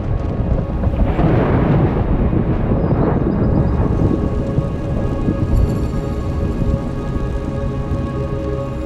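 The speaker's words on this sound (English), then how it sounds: "rolling clouds are signs of an approaching thunderstorm" Thunderstorm in a mountain canyon, with heavy rain pouring steadily and a deep rumble of thunder rolling through the first few seconds before easing into a constant loud rain wash.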